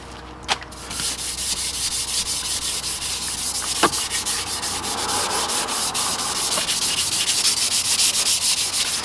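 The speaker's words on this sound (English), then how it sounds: "grab the Scotch-Brite and start working on this thing" A Scotch-Brite pad scrubs a dirt bike exhaust pipe in rapid back-and-forth strokes, a close, steady rasping rub with a couple of sharp knocks, and no voices.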